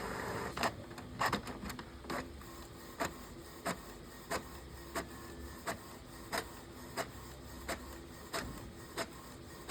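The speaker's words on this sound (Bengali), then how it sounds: "প্রিন্ট, ওটাতে একবার বোথ সাইড দুটোই বেরিয়ে আসবে।" A Canon GX2070 or GX3070 series inkjet printer runs a two-sided colour print job. It gives a steady mechanical whir broken by regular sharp clacks and feed thumps, close up with no talking.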